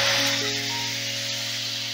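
Spices sizzle steadily in hot fried-onion (birista) oil, a continuous close frying hiss with a faint musical tone running underneath.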